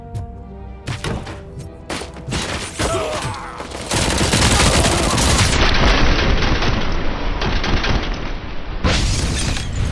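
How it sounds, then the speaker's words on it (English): Chaotic gunfight in RoboCop: Rogue City with a heavy grenade blast partway through, followed by a dense, roaring wash of explosion debris and continuous gunfire, loud throughout. "Oh, must have been a grenade."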